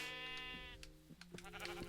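Sheep in the Minecraft video game bleat in a loud, close, harmonic wavering call, followed by a few shorter bleats overlapping in the second half.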